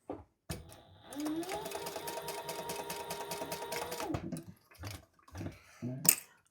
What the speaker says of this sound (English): we're going to stitch what she tells you to in the pattern.